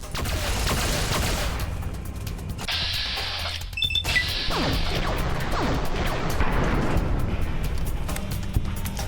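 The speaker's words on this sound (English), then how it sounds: "It was a turret." Turret gunfire in Fallout: New Vegas, inside the Sierra Madre casino during the Gala, heard as a dense stretch of sharp crashing bursts and clatter that runs almost the whole time, with a brief beeping tone partway through.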